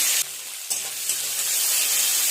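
Chopped onions fry in a pan for a Bengali shol fish kalia, a steady broadband sizzle with stirring scrapes. A short quiet gap near the start comes before the sizzle returns and holds, close and fairly loud, with no talk.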